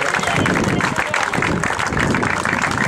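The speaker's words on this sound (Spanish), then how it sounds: "Un fuerte aplauso para Carlos Rodillo, llegando a meta este cambadés" Loud, close audience applause for a runner crossing the finish line at the Milla do Albariño road race in Cambados, dense continuous clapping with crowd noise and voices mixed in.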